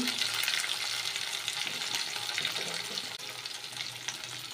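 Cashew-raisin paste is stirred into masala frying in a pan for paneer doi kalia, giving a dense, continuous sizzle with a steady scraping of the spoon throughout. It is close and fairly loud, with no talk.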